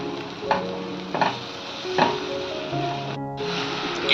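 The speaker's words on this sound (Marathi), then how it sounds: "छान असे मसाले देखील आपण ऑइलमध्ये छान असे परतून घेऊया" Spices sizzle in hot oil while a spoon stirs them in a pan for paneer masala, with a steady frying hiss and a few soft scraping strokes, close and alone without talk.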